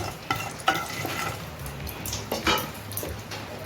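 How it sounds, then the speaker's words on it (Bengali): Whole spices fry in hot oil left from frying paneer, a steady crackling sizzle broken by a few clinks of a spoon against the pan, fairly close and with nobody speaking. "আমার ফোড়নটা ভাজা হয়ে গেছে ফোড়নটা বেরোতে শুরু করেছে"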